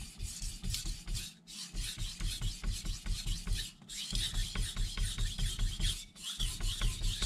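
A carbon steel knife grinds back and forth on a Miyagoshi whetstone in steady, rhythmic rasping strokes with brief pauses between sets, close up and moderately quiet, no voices.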